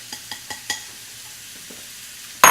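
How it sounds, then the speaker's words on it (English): A spoon stirs venison chili in a pot: four soft scraping knocks at an even pace, then a quiet stretch, closing with a sudden loud burst of sizzle and clatter, nearby and free of talk. "You want to make sure to constantly stir your venison chili so that you don't have any like browning"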